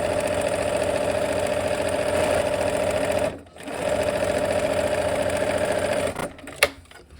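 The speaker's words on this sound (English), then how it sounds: "we'll sew 1/4 inch from both sides of the line" A sewing machine stitches quilt half-square triangles, a loud, fast, steady mechanical whir that pauses briefly, resumes, then stops with a small clack near the end.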